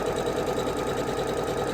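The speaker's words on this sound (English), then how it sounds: "The sound of a sewing machine" A sewing machine stitching a quilt runs continuously with a steady, even mechanical whir and rapid stitching rattle, close by and without voices.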